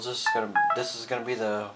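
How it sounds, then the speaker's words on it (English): A mobile phone's electronic tones sound in quick beeping steps, close and clear, overlapping someone speaking. "That was my phone. I forgot to turn the volume down."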